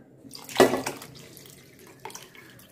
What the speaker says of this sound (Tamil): இந்த மாதிரி தண்ணி ஊற்றிக்கோங்க.